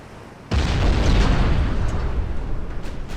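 A heavy shell strikes a warship in Ultimate Admiral: Dreadnoughts, a naval battle game set around 1890, opening with a sudden loud boom that rolls into a long, dense rumbling roar that slowly tapers off.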